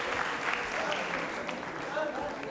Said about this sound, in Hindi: स्मृति जी के लिए तालियां बजाइए